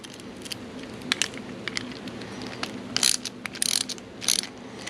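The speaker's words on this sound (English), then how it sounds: "Let's go ahead and remove the 10 millimeter on the bottom." A ratchet working loose the 10 mm pivot bolt on a ProTaper Profile Pro XPS clutch lever of a Yamaha YZ65, with irregular clicking bursts and brief metallic rattles, close and quiet, with no voices.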